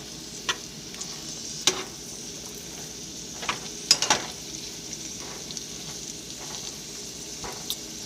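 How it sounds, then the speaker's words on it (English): Steady, crackling sizzle of butter in a hot pan, with occasional louder pops and spits over a continuous hiss. "Let the butter melt a little bit. You hear that sizzle?"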